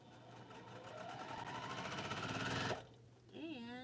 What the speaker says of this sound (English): So we keep sewing.